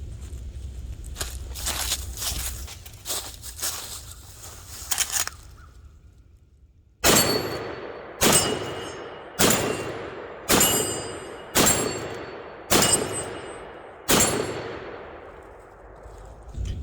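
Six loud shots from a .357 Magnum lever-action rifle fired at targets ring out at an outdoor range, evenly spaced with echoing decay, after a stretch of clanking handling and wind noise.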